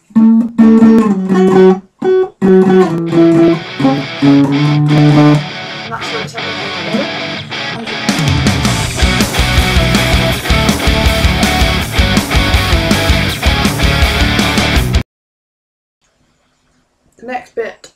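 An electric guitar plays a song riff, first as clear single-note phrases and then as loud, dense strummed chords, ending abruptly, followed by a short silence.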